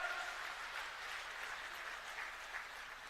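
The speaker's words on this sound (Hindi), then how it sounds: "जोरदार तालियों से अभिनंदन करिए, जोरदार तालियों के साथ।" Steady applause from a crowd at a political rally, a booth workers' conference held in Khajuraho, Madhya Pradesh. The clapping is dense, continuous and moderately distant, with no clear voices over it.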